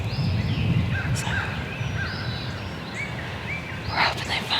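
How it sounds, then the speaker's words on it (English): Wild turkeys gobble several times in the distance in an Alabama forest, their calls rising above a steady outdoor hiss of wind and ambient noise. "We got turkeys gobbling all around."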